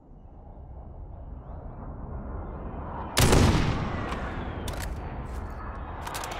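A single sharp gunshot cracks out in Call of Duty Warzone, followed by a few fainter distant shots over a steady low wind-like ambience, with no one talking.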